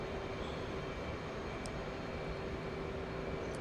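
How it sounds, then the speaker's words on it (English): An F/A-18C jet engine at full throttle in the DCS World flight game makes a steady, broad roar. The sound is distant and fairly faint, with no speech. "Let's throttle up to about 350 knots now. Go full throttle."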